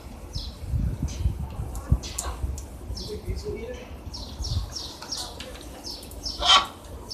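Repeated short parrot chirps and calls, fairly faint and scattered, over low background noise with occasional nearby talking.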